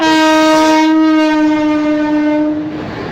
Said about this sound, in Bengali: সামনে থেকে নিশ্চয়ই কোনো একটা ট্রেন আসছে